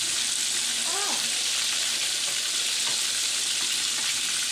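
Rice and butter sizzle and fry in a pot of boiled peas, a dense steady crackle with a brief stirring scrape near the start, loud and close without talk.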